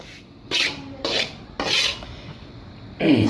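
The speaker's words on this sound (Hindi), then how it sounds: "ये सूजी मैंने तकरीबन 15 मिनट तक भून ली है। बहुत ही स्लो आंच पे मैंने इसको भूना है" A spoon scrapes and stirs semolina as it slowly roasts in a pan over a low flame for halwa. The rasping strokes come in four regular bursts close by, with no talk.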